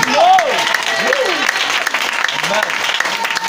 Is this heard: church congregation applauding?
yes